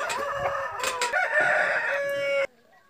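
Rooster crowing loudly and close by in one long harmonic call lasting over two seconds, then cutting off abruptly to near silence.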